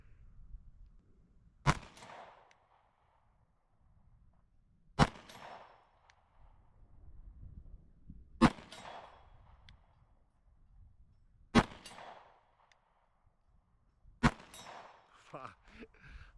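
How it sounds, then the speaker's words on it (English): Five sharp pistol shots from a Ruger RXM fired at a metal target 50 yards downrange, spaced roughly three seconds apart, each a loud crack followed by a brief ringing tail, with quiet gaps between. "We're gonna see how many we can hit out of 5 on the metal target downrange"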